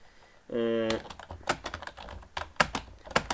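A computer keyboard clatters as a reply gets typed, a quick uneven run of close, crisp key presses following a brief tonal beep, with no voices.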